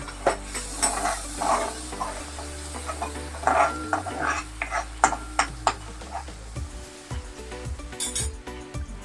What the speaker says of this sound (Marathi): मिरची तळण्यासाठी थोडस थेंबर पाणी टाकायचं म्हणजे छान तळली जात